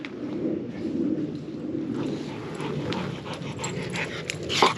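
Dog panting rapidly and steadily close by, a quiet continuous breathy rhythm with light outdoor ambience and a bird faintly in the background.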